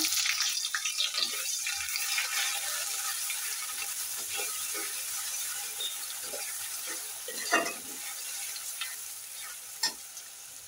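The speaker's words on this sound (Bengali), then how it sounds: "পেঁয়াজটা ভাজা হয়ে গেছে" Steady sizzling of onions frying in a pan, with occasional stirring scrapes and clicks; no one speaks.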